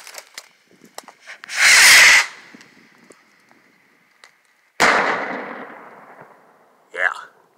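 A vamp firework outdoors erupts in loud hissing, crackling bursts with a thunder boom, one blast followed by a second burst a few seconds later that trails off, then a short final crackle.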